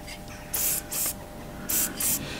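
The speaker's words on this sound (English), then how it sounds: "Again with this Vaseline spray." Vaseline spray is applied to the washer of a Lotus Elise wishbone bush, heard as two pairs of short, loud hissing aerosol bursts with brief gaps, fairly close.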